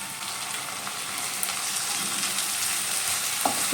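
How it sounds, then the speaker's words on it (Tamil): Steady close sizzle of prawns frying with tomato and curry leaves in a pan for a Kerala-style prawn dish, with occasional stirring scrapes over the continuous hiss. "இதையும் சேர்த்து நல்லா வதக்கிக்கோங்க"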